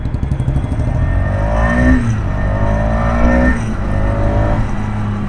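A 2022 KTM Duke 250 BS6 motorcycle rides and swings through a U-turn, its engine droning steadily close by while the exhaust note rises in several climbing revs, with no talking.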